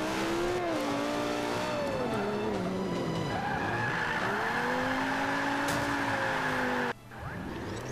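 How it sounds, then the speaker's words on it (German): A tuned Lamborghini drifts in the Forza Motorsport 5 racing game, its engine droning loud and shifting in pitch while the tires squeal continuously, then it briefly cuts off near the end. "Das ist mein getunter Lamborghini übrigens"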